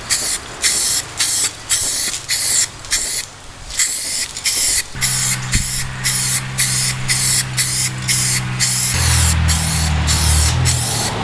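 Repeated bursts of spray paint hiss onto a Jeep Cherokee fender being coated flat black, close and loud, in quick rhythmic passes with brief pauses between them.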